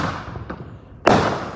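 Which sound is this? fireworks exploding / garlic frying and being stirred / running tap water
fireworks exploding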